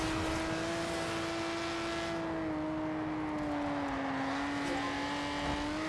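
Steady drone of a car engine in the Forza Horizon 2 racing game, holding a constant tone at cruising speed with a slight dip in pitch midway, continuous and fairly quiet with no talk.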